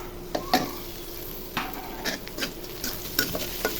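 Dried chilies, chopped onion and turmeric frying in hot oil, a soft steady sizzle under scattered stirring scrapes and light clinks, fairly quiet and close.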